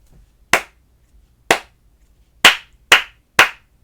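In a music lesson, a single person claps a slow rhythm of five sharp, close hand claps, with the last three coming in quicker succession.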